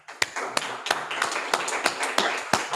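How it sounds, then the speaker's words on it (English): Audience clapping for the 2023 delegates at an alumni certificate award ceremony, a run of sharp, closely spaced claps with distinct individual hand strikes standing out over a steady bed of applause. "you, the delegates of 2023, deserve a big round of applause"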